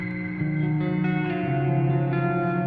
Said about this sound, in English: behind it you hear this woolly kind of ambience, and that's what plate reverb does.